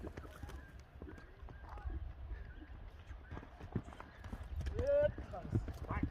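A fast, chocolate-coloured racehorse gallops without stopping, its hoofbeats thudding in a steady rhythm beneath ongoing talk, growing somewhat louder toward the end.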